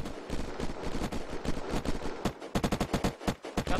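Gunfire in the game Unturned, rapid automatic shots in dense bursts, steady through the first half and then sharper distinct rounds toward the end, fairly quiet overall.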